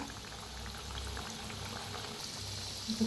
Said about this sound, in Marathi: सावकाश तेलात सोडायचं सावकाशच करा तेल आहे गरम तेल असतंय